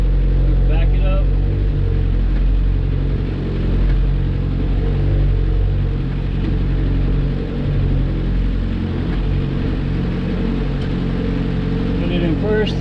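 Suzuki Samurai with failed brakes idling and backing up slowly, a steady low engine rumble close to the microphone, continuous and even, with a few faint clicks over it.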